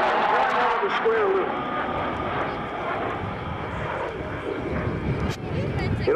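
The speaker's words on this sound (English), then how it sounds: "Dewey is now slowing the Hornet down to almost minimum" A CF-18 Hornet fighter jet flying slowly at an airshow gives a loud, continuous engine roar that swells and recedes, while an announcer talks over it throughout.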